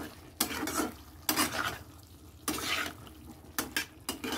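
Potato curry (aloo dum) frying in a pan is stirred after ginger, cumin and green chili pastes go in: sizzling runs under four or five distinct bursts of scraping spatula strokes, close and moderately loud.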